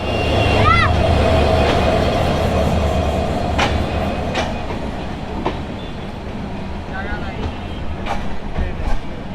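Ekota Express passenger train, a long-distance Dhaka to Panchagarh service, pulling out of a station, with a steady loud rumble and repeated wheel clacks from on board, a faint squeal early on and people talking in the background.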